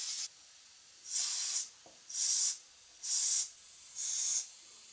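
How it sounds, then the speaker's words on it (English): WD-40 sprays onto the governor of a model steam engine in five short, close hissing bursts of about half a second each, spaced roughly a second apart, with a faint tap between two of them and no voices. "I thought some lubrication might be in order, so I'm using WD-40 for a bit of short-term lubrication."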